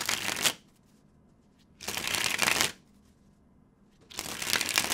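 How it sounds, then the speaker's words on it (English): Three bursts of crisp riffling as a new 3D Origami deck of cards is broken in and shuffled, each about a second long, separated by near silence, close up. "Really thrilling content here, breaking in a deck of cards."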